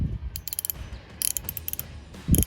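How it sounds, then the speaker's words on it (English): A tune-up-kit ratchet on a wobbler extension turns a spark plug socket on an LS-swapped third-generation car, giving several close bursts of rapid clicking separated by short pauses and light metallic knocks. "this ratchet is like from a tune-up kit"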